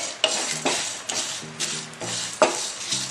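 Whole dry spices for Kolhapuri misal masala are dry-roasted in a pan and stirred with a spoon, giving repeated close scraping and rustling strokes at an uneven rhythm with no talking.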